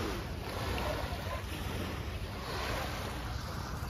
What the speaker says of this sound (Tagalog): Ayan oh, ang dagat ang ganda.